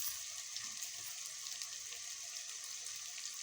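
Minced meat (keema) hitting frying onions in a pan, giving a faint, steady crackling sizzle with no talking.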